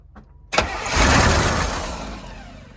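A project car's engine cranks and catches after a key turn, bursting from near silence into a loud roar that settles into a steady rumbling idle, close by.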